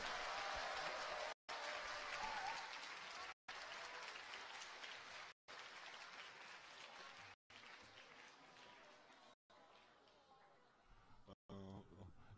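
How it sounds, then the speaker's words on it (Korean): Sustained audience applause at a youth talk concert fills most of the stretch, dense and loud in repeated bursts with brief gaps, tapering toward the end. "박수로 맞아주세요."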